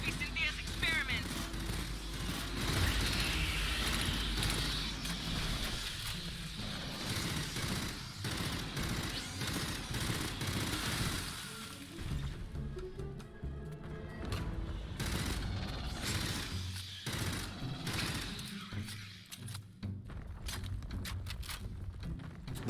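Burst rifle fire in the sci-fi shooter Aliens: Fireteam Elite, repeated loud gunfire bursts and booms in a dense, noisy battle mix, with a voice talking over it.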